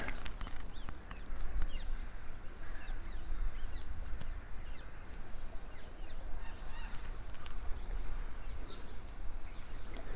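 Birds calling outdoors by the water, honking goose-like cries repeating irregularly over a steady ambient wash, moderately far off and with no talking.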